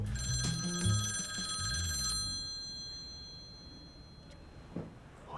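An indoor telephone bell rings steadily for about two seconds, bright and close, then stops and its ringing fades into a quiet room.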